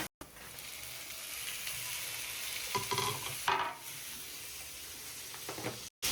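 Chopped tomato hits onions and garlic frying to light brown for a Mangalorean-style chicken curry, raising a loud, steady sizzle with bursts of stirring scrapes near the pan.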